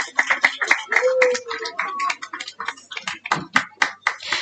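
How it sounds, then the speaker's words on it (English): Scattered clapping from the audience at a secondary school graduation ceremony, sharp separate claps that run under someone talking and are sometimes masked by him. "Let's keep the applause going."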